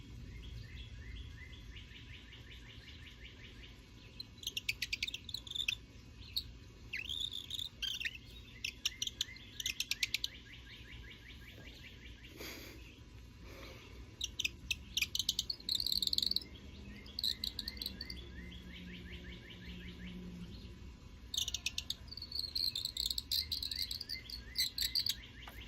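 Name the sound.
twist bird call whistle imitating a bird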